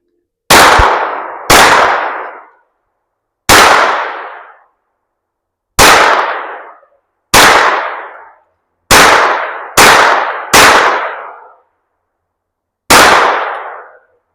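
A Hi-Point 1095 10mm pistol-caliber carbine fired outdoors at a range at targets on a pumpkin: nine loud, sharp shots with ringing decay, spaced irregularly over about fourteen seconds.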